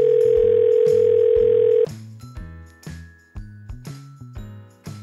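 A telephone line's steady dial tone holds for about two seconds, then gives way to a rapid sequence of dialing tones and ringing chimes as a call is placed, loud and clear.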